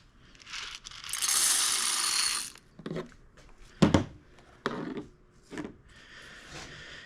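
Coffee beans are poured into a popcorn machine used as a roaster, a dry rattling rush followed by scattered clinks, taps and knocks of parts being handled, close by with no talk.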